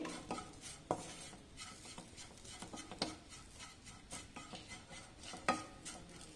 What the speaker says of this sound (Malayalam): നമുക്ക് ഈ മുളക് പൊടി ഒന്ന് നല്ലപോലെ ഇളക്കാം